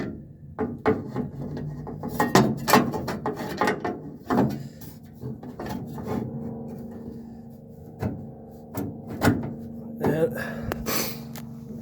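Fitting and screwing the guard onto a 1968 Camaro fuel filler neck produces close metallic clanks, knocks and scraping rattles in irregular bursts, with breathy voice sounds between them.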